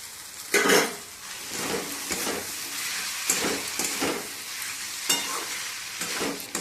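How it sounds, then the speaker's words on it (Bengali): Fried pieces being sautéed in a spicy curry masala with chopped tomato in a pan, giving a steady close sizzle broken by repeated scraping stirs of a spatula against the metal. "ভালো করে কষাবো।"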